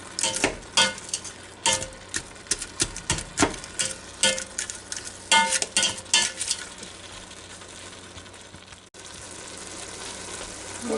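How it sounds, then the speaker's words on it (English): A one-pot spaghetti and meatballs dish bubbles in a pot with a constant hiss under repeated nearby clanks and scrapes of a utensil, which ease off later while the simmer continues alone. "that's simmering pretty good"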